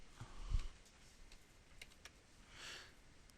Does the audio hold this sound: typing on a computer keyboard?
yes